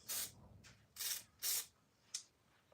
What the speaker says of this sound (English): I'm going to spray this just off so I don't spray.